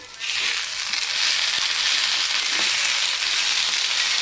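Leftover matki rice is reheated in a pan for breakfast, giving a steady close sizzle and crackle that swells after a brief quieter start and holds evenly, with a few faint scrapes and no talk.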